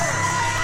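A wrestling crowd at a pro wrestling event cheers and shouts in a brief, continuous roar, loud and fairly close, with no clear speech.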